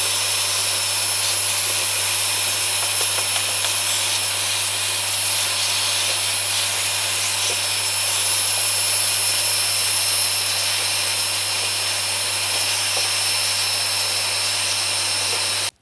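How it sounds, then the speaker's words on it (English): A household vacuum cleaner fitted with a hose and small brush attachment runs steadily, cleaning dust from a 1980s Technics SL-D20 turntable, with a loud continuous roar and a low hum underneath and no speech. "it hooks up to your regular vacuum cleaner and you get this hose and a little brush that has a vacuum in the center"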